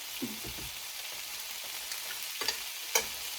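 Fajita vegetables sizzle steadily in a hot pan with cumin and garlic, a close, continuous frying hiss broken by a few soft stirring scrapes and light clicks.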